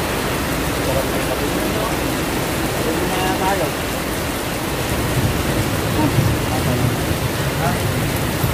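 Steady rain falls in a broad, even hiss that runs without a break for the full stretch, fairly loud and close, with faint scattered sounds beneath it and nobody speaking.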